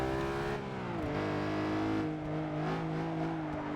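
Racing car engine from Forza Motorsport 6, revving hard and accelerating flat out through a corner, loud and close with a steady harmonic whine that dips briefly at a gear change before climbing again.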